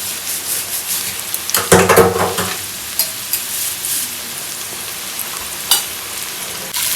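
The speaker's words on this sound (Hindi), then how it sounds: "अच्छे से और ये पूरा फ्राई होगा" Parwal (pointed gourd) pieces with salt, turmeric and masala sizzle in a pan for a dry fry, with a spoon scraping and stirring in short bursts over a steady soft crackle.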